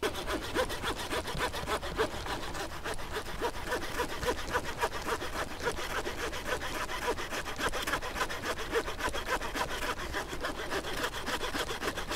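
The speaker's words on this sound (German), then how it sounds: "wir haben hier eine Säge dabei und zwar für ein Taschenmesser eine richtig große Säge." Rapid back-and-forth strokes of a pocket knife's saw blade rasp through small branches, a steady scratchy rhythm up close, continuous and fairly quiet.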